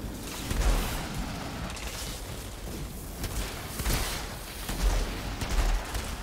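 Sniper rifle fire in the shooter game Outriders, several sharp reports at irregular intervals rising over a dense, noisy battle soundscape of other gunfire and booms.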